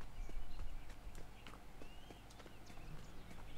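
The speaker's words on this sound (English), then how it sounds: "Shut up, horse." Horse hooves clip-clop in a Sherlock Holmes video game, a steady rhythm of sharp, fairly close knocks over a busy street-like background hum, with no talk heard.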